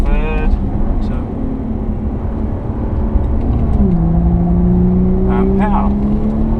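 A Jaguar XF road car with 360 hp accelerates hard around the Pamplona circuit. Its engine note holds loud and steady, then a gear change drops the pitch and the revs climb again, with someone speaking over the noise.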